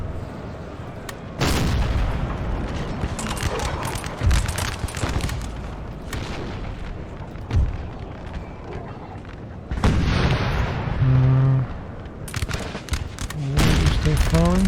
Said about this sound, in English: Still firing? I thought I gave you an order to stop firing.